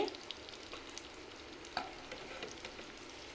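Boiled eggs frying in oil in a pan for an egg masala gravy give a low, continuous crackling sizzle with a few faint spatula taps, quiet and close, with nobody talking.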